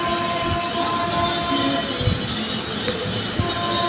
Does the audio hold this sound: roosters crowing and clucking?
no